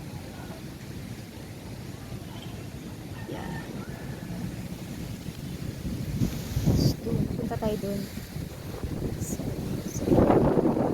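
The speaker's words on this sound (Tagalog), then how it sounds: "ang lakas ng hangin kaya nagagalaw-galaw ang camera." Strong gusting wind during a typhoon in Looc buffets the microphone with low rumbling bursts, shaking the camera, growing rougher toward the end, while a person speaks briefly over it.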